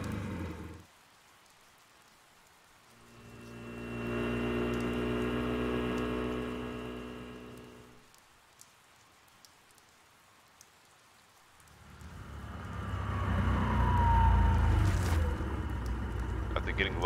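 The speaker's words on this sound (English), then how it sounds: "can I ride in the rain?" Rain falling in the Persona 4 video game, coming in two steady hissing stretches separated by near-silence, the second louder and rougher.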